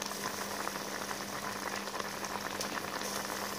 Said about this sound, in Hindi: बेटा जी बैंगन आलू मटर नू उबाल आ गया